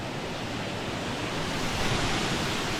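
Suchipara waterfall in a forest, heard as a steady, dense broadband roar of falling water that stays loud and unbroken throughout, with no voices over it.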